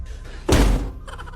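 A single dull thump of a person bumping into a door, one short heavy impact alone against quiet background hiss.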